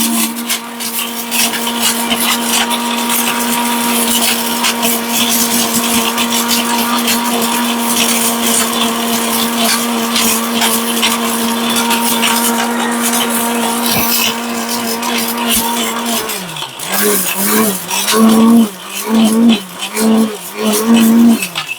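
A multi cooker blender grinding turmeric paste, a loud steady motor whine that holds for about sixteen seconds, then wavers and pulses in short bursts as the load changes.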